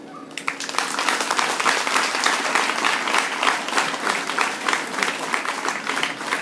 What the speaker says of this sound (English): the most important right now is to give them a round of applause